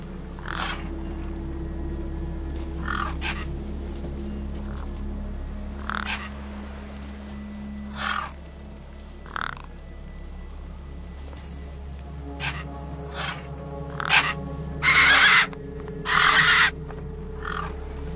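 Scavenging birds croak and caw in a dystopian sci-fi adventure game as they feast, irregular harsh calls scattered over a constant low industrial drone, growing louder and more clustered near the end.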